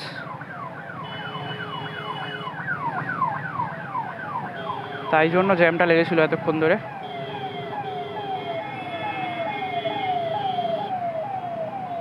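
An ambulance siren wails in repeating rising sweeps through a traffic jam, loud and close, with a burst of faster warbling yelps in the middle and someone talking over it and traffic rumbling beneath.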